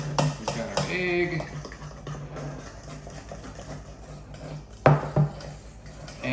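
Oil and egg are stirred into an almond flour pumpkin bread batter with soft scraping and light clinks of a utensil against a bowl, partly under talking, followed by a sharper knock.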